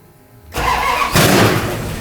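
A 1973 Plymouth Duster sprayed with fuel and brake parts cleaner cranks briefly and then catches, its engine firing up loudly and settling into a rough, strong run close by.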